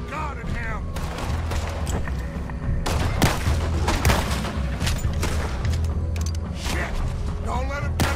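Gunfire in Red Dead Redemption 2 during a firefight: repeated sharp shots crack out in uneven bursts over mechanical clatter, with voices underneath the shooting.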